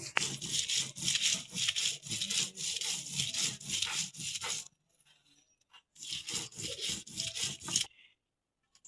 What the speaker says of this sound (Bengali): মশলাগুলো বাইটে নিই